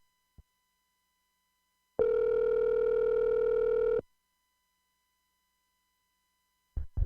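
A single outgoing-call ringback tone on a telephone line, one steady two-second burr after a faint click, followed by silence and then a short rustle near the end.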